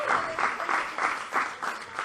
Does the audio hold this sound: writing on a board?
no